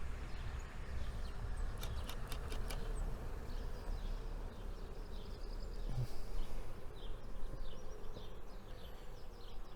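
Honeybees hum in a low, steady drone during a beehive inspection, close and continuous, with a brief burst of faint ticking clicks early on.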